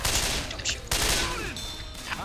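Rapid bursts of gunfire in Left 4 Dead 2, loud and close, with a sharp cut near the middle; distorted shots crackle over one another in a dense, continuous barrage.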